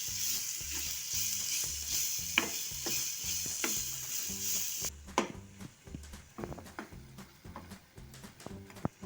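Chopped onions fry and get stirred in a pan while paneer bhurji is being made: a bright sizzle first, then it quiets and a spatula scrapes and taps against the pan in irregular strokes.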